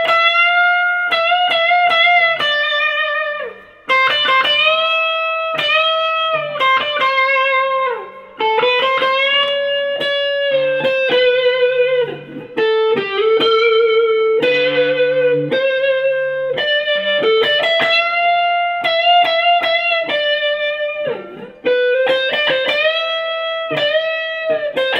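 An electric guitar through a TC Spark Boost pedal plays a melodic lead lick with boosted, slightly driven tone and reverb, notes bending and sustaining, with brief pauses between phrases.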